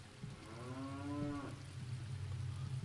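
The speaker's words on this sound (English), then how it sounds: "So we have cows." Cattle mooing in The Legend of Zelda: Ocarina of Time Master Quest, one clear drawn-out low moo over a steady rumbling game background, no voices.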